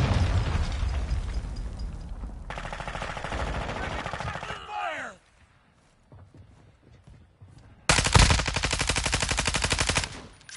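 Gunfire and explosions from a PS4 military shooter game come as dense, loud bursts of rapid fire, then a brief lull with scattered pops. Another heavy burst of automatic fire follows near the end.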